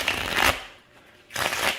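Two quick bursts of playing cards being riffle-shuffled, close up, separated by a short pause.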